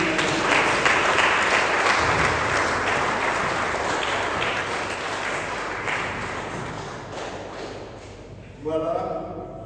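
A church congregation applauds and acclaims Jesus Christ, sustained loud clapping and crowd noise filling the space, fading slightly before a voice breaks in near the end.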